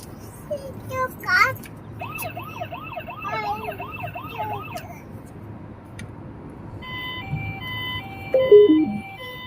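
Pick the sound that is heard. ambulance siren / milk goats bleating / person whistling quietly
ambulance siren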